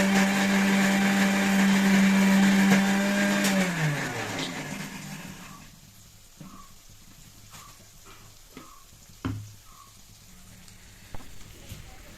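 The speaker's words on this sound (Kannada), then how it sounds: "ಅದನ್ನು ರುಬ್ಬಿ ಸಣ್ಣ ಫೈನ್ ಪೇಸ್ಟ್ ಥರ ಮಾಡ್ಕೊಬೇಕು" A mixer grinder whirs loudly while grinding a fine spice paste, then winds down and stops, followed by a few clinks and knocks.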